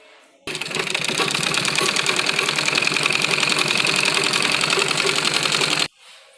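A sewing machine runs nonstop for about five seconds stitching along the edge of a men's kurta fabric, a rapid steady mechanical chatter that starts and stops abruptly, close and loud.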